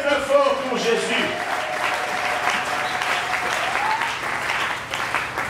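Church congregation clapping and cheering loudly and steadily for Jesus during a worship service, a dense sustained wave of applause with voices mixed in throughout.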